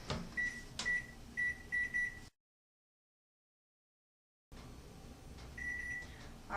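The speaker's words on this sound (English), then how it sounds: "I'm going to go ahead and set our timer." A digital timer is set for pumpkin spice cakes in a home kitchen, giving a run of four quick beeps and a louder key press, then silence, then one more beep over faint room hum.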